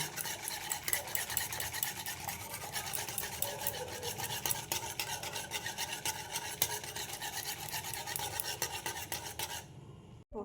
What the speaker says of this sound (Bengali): এবার আমি ভালো করে আমুল দুধটা মিশিয়ে নেব